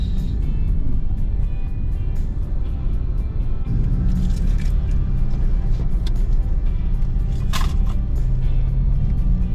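Dense road traffic on the SLEX highway, with a continuous loud rumble of cars, buses and engines close by and occasional louder passing vehicles.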